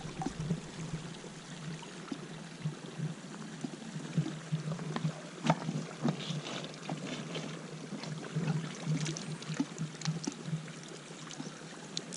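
The Duje river in the Picos de Europa rushes and splashes steadily nearby, a continuous broad wash of flowing mountain water with no voices.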